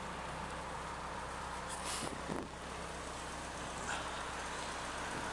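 An old MG car called Ethel, a JC Midge fitted with cycle wings, drives steadily along a main route with a constant engine drone and road rush, quite distant-sounding and even, with a faint passing whoosh midway.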